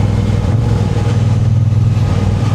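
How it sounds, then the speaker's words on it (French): Trucks rolling past on a road near Chiang Mai, a loud continuous low engine rumble and drone close by, steady throughout with no talking. "des camions qui souvent roulent fort"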